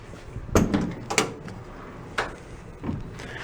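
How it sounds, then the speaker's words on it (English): Door of a rusty VW Beetle being opened, giving a few short, close metallic clunks and latch knocks spread over a few seconds in a quiet garage. "probably open the other door."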